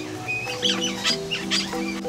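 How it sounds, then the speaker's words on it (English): King parrots feeding on macaranga seeds along a fence line give off short, high chirps and squawks, repeated several times over a steady background hum. "these are some king parrots"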